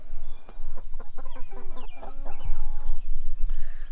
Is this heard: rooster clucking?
yes